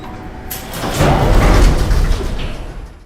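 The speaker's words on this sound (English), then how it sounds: "the elevator sounds tired of life, unstable, and ready to break" Elevator machinery creaks and groans in the film Joker, sounding strained and unstable: a mechanical rumble and rattle that swells to a peak midway, then eases off, with no voices.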